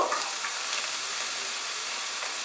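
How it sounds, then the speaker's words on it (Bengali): Chopped onion and capsicum fry in a tablespoon of hot white oil, giving a steady, close hiss and sizzle that holds even and unbroken throughout. "তেলটা গরম হলে এর মধ্যে আমি দিয়ে দেব পেঁয়াজ কুচানো, ক্যাপসিকাম কুচানো"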